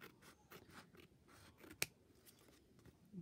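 Scissors trim a fabric tag with a few soft snips and one sharp, close cut, all quiet and up close.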